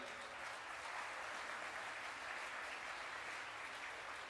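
Applause from an audience at the European Cyber Security Challenge 2024 award ceremony, steady even clapping heard from a distance at low level throughout.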